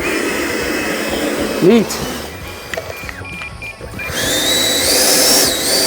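A Freewing Chengdu J-10A RC jet's electric ducted fan throttles up, a whirring hum that rises to a loud, high whine near the end, close by, with brief talk just before.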